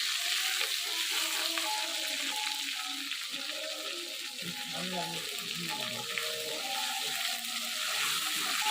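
Ginger paste sizzles in hot oil for a spicy village-style tengra fish tomato curry, a continuous bright frying hiss with stirring scrapes underneath.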